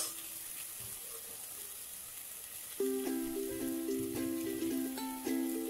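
Mutton with salt sautéing in oil in a pan, a steady close hiss and sizzle, joined midway by a brighter tonal clatter of metal pan contact over the crackle.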